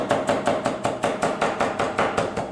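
Kitchen knife chopping vegetables on a cutting board while preparing artichoke risotto, a steady rapid series of about a dozen even knocks, close and moderately loud.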